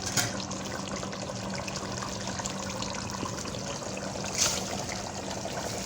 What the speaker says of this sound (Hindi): जो चावल मैंने भिगोए थे 750 ग्राम, वो इसमें डालूंगी अब